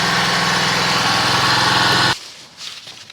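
A 2023 Venom SS3 KP mini 150 idles steadily during a heat cycle, a loud, close, even engine drone with a fine rhythmic pulse that cuts off abruptly near the end, leaving faint background noise.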